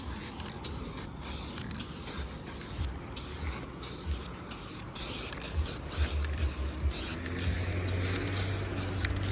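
A spray paint can sprays thin first coats of paint onto a 5.4-swapped Mustang GT, giving a steady close hiss with short breaks between bursts and faint clicks and creaks.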